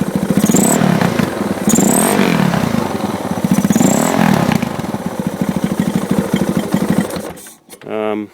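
Loud, steady single-cylinder engine drone of a KTM 690 Rally motorcycle with a rapid pulsing beat, running continuously and close by, with a brief revving burst at the end.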